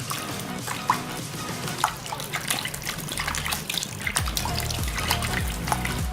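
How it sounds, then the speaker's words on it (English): Steady running and splashing warm water as feet are washed, with scattered drips and small splashes, continuous and close, with no talking. "After 5 minutes, wash it off with warm water."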